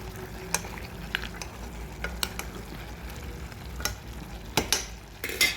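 Mutton for curry fries and sizzles in a pan, with a steady sputter of juices and repeated scraping, clinking stirs from a spoon, close and fairly loud with no talking.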